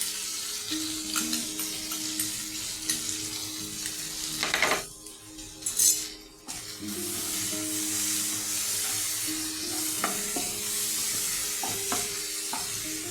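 A paste of ground poppy seed and cashew is stirred into spices frying in a pan for potol dorma, with a steady sizzle and scraping stirs, a few louder clinks midway, and no talk.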